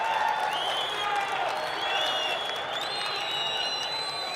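Judo arena crowd reacts to a throw with a sustained roar of voices and scattered applause, fairly loud and steady, while a commentator talks over it.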